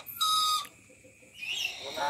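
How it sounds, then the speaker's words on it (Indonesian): An Aru lory parrot from Papua gives loud, shrill whistling calls nearby, a sustained piercing note followed by shorter rising squawks. "Ini namanya Nuri Aru."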